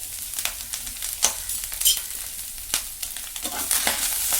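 Salted rice for a Malappuram-style thoompichoru is stirred in a pot, a close scraping and rustling of the spoon with repeated strokes over a faint hiss, with no voices.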